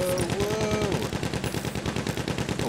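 Anti-aircraft gun in the Battlefield 1 video game firing a rapid, steady stream of loud, close shots that continues unbroken throughout, with a brief whistling tone at the start.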